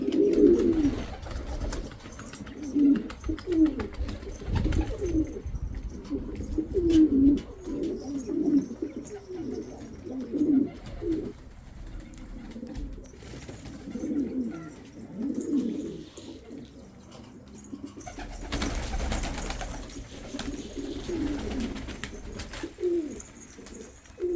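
Pigeons, including a Guan breed, coo in a steady run of low, throaty, rolling calls close by, repeating every second or two beside faint ambient noise.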